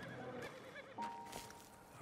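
A horse whinnies briefly in the Western video game Red Dead Redemption, a faint, short neigh close by among quiet outdoor ambience.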